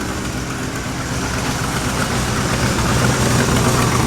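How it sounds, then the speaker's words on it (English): A turbocharged 5.0 Ford Ranger engine idles loud and close with a steady rumble, and an exhaust leak adds a constant rasping hiss throughout. "Oh, exhaust leak is terrible."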